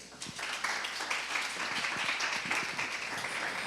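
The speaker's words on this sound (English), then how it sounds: "Let's give a round of applause." An audience at a tech meetup bursts into steady applause, many hands clapping together at moderate distance for a few seconds.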